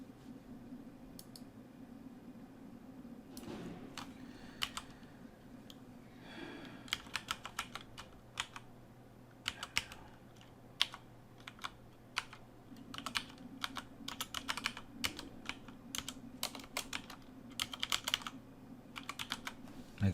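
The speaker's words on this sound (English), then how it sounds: "I'll just type it." Keystrokes tap across a computer keyboard in irregular bursts, quiet and close, over a steady low hum, with brief pauses between runs of typing and no talking.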